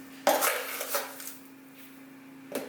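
Cane sugar scooped with a half-cup measure in a home kitchen, giving a few light clinks and scraping rustles of utensil against bowl, quiet and close, with a low steady hum behind.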